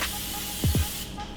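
Coconut oil cooking spray is sprayed onto a pan on a burner in two quick bursts of hissing spray, close, over a steady background hiss.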